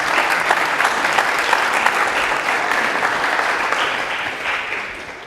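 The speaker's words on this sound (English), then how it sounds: "I don't know if that was applause for what he said or applause because I got up" An audience at a talk on compassion and race applauds after a presentation, steady dense clapping from many hands that holds for several seconds and then begins to fade.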